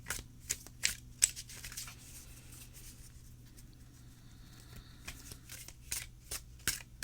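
A deck of Haindl tarot cards is shuffled by hand, giving repeated quick riffling bursts and soft patters close by, with short pauses between them and no talk.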